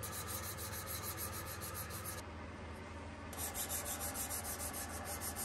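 A carbide gouge chisel is rubbed against 1200 grit silicon carbide paper in a steady back-and-forth scraping rhythm, close and continuous with a brief lighter patch midway.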